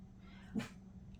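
A single faint, distant dog bark from a household dog rises briefly out of a low steady room hum, otherwise quiet.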